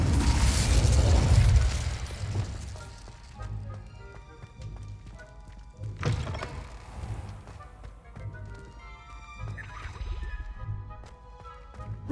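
Incendio fire spell cast in Hogwarts Legacy, a loud whooshing burst of flame at the start followed by crackling and a second fiery burst, with game sound effects and hoof-like clatter underneath.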